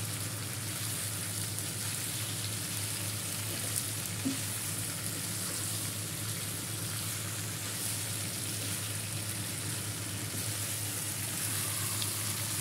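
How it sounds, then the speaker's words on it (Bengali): Taro stolons frying in oil with turmeric and chili spice, a steady, even sizzle that holds at moderate level throughout with no voices. "হলুদ মরিচা দিয়ে কষাই এখন এই লতিটা ছেড়ে দিচ্ছি"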